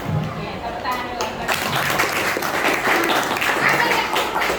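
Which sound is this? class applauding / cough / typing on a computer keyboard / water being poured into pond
class applauding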